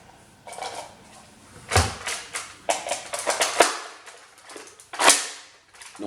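A Nerf blaster being loaded: a run of sharp plastic clicks and clacks, a dozen or so snaps at uneven intervals, close and distinct, with a louder ratcheting snap near the end.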